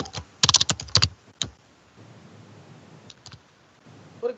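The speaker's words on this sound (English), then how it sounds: "I'm typing the content." Fingers type on a computer keyboard during an online teaching session, a close burst of rapid clacks followed by a pause and a few scattered keystrokes, with no one talking.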